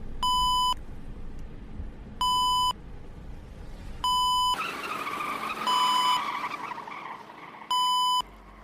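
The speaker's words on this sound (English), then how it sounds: "these beeps aren't your typical alarm clock beeps. These beeps are so fucking annoying." Loud electronic beeps sound inside a Hong Kong van, four identical high, tonal bursts repeating at a regular interval over engine and road rumble, with a brief rush of louder road noise in the middle.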